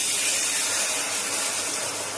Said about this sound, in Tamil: இப்போ குக்கரில் வச்ச சிக்கனை எடுத்து இப்போ கடாயில் கொட்டணும்